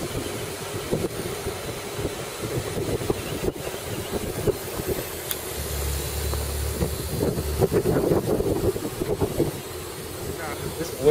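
Wind roars and buffets continuously around a moving convertible, a dense rumbling rush with people talking over it.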